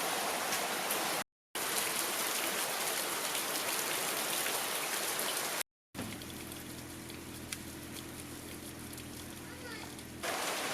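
Steady heavy rain falls on a rainy day in Phuket, Thailand, a dense hiss broken by two brief cuts, and then it continues more softly under a low hum.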